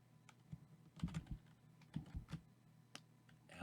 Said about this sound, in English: So what I can do is I can type